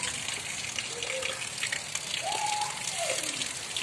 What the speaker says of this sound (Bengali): এই যে জল পড়ছে এখনো এবং ভিজে গেছে পুরোটায়